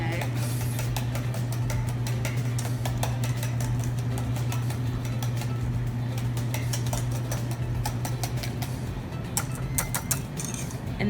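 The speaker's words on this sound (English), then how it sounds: "So we're just gonna stir this together, whisk up those eggs." Eggs are whisked in a bowl in a kitchen, giving a rapid, steady clatter of ticking strikes against the bowl that runs throughout over a constant low hum.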